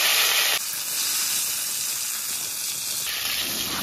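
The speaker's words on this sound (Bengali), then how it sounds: "আমটাকে ভালো করে পাঁচফোড়নের মধ্যে ভেজে নিতে হবে।" Mango pieces fry in hot oil with panch phoron, making a steady, close hiss and sizzle that shifts slightly in tone partway through, with no voices.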